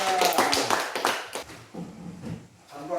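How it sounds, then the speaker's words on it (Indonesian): A classroom group clapping for their classmates, a short burst of scattered hand claps up close that thins out and fades after a second or two, with faint voices in the background. "Tepuk tangan untuk kelompok kita."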